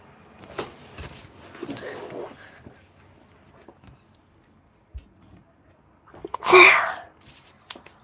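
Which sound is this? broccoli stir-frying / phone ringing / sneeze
sneeze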